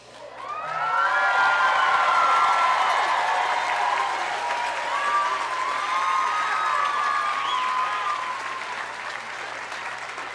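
Graduates and audience at a community college commencement burst into loud applause mixed with cheering and shouts, swelling quickly and holding a full, sustained roar before easing slightly toward the end.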